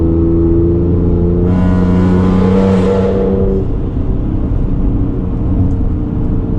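A loud, deep engine drone from a straight-piped Ford Explorer Sport, heard inside, with a raspy exhaust note that swells briefly as it accelerates, then settles back to a steady rumble.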